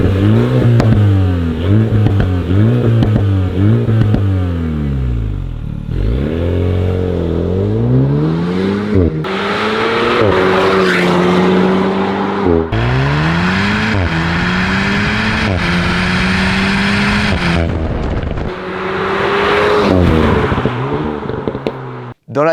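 An Alpine A110S Kit Aero sports car with a 300 hp engine revs and accelerates hard through repeated rising pulls, each climb in pitch cut by a gear change, loud and close with brief lulls between runs.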